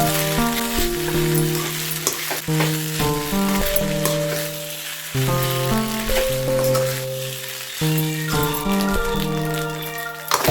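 Pasta sizzles and fries in a pan with a splash of light soy sauce, a continuous crackling hiss under melodic background music.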